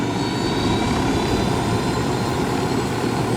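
Helicopter in the video game Ghost Recon Wildlands, its steady engine and rotor roar loud and constant throughout, filling the scene without gaps and with no voices.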